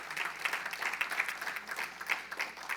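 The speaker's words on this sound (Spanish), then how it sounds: "Denle el aplauso al Señor si lo creen." Congregation applauding inside a church during a Spanish-language sermon, a steady wash of many hands clapping at moderate distance for a few seconds with no speech over it.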